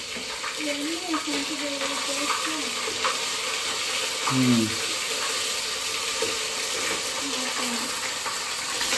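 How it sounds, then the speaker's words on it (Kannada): Ginger-garlic paste sizzles and spatters in hot oil for a mutton head dish, a steady close frying hiss with occasional stirring scrapes throughout. "ಅಲ್ಲ ಬೆಳ್ಳುಳ್ಳಿ ಪೇಸ್ಟ್ ಹಾಕ್ತಾಳೆ, ಎಣ್ಣೆ ಹಾಕ್ಬಿಟ್ಟು."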